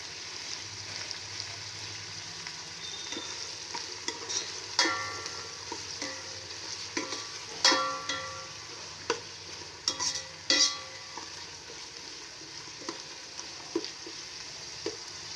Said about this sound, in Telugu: ఈ ముక్కలు అనేది బాగా వేగిపోవాలండి